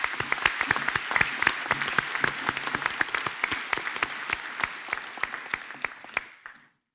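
An audience at a 2021 graduation ceremony applauds the graduates, a steady wash of many hands clapping with distinct sharp claps standing out, holding for about six seconds before fading quickly to silence.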